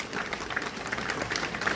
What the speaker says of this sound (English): We want to clap for you.